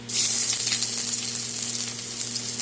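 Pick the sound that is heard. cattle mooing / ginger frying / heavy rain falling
ginger frying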